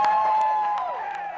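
Virginia Tech football fans cheer in a stadium during the 1999 game against Virginia, a loud, continuous crowd roar with a few brief whoops and a sustained horn-like tone running through it.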